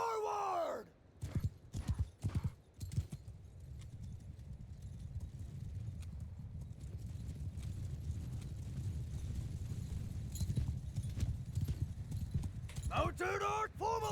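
Cavalry hoofbeats thunder across a battlefield in Mount & Blade II: Bannerlord, a continuous rumbling gallop of many horses with scattered sharp impacts and shouts near the start and end, a neigh or cry breaking through late on.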